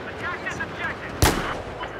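A single sharp sniper shot in Battlefield 4 cracks out at close range midway through, standing out over a bed of low game noise and faint background voices.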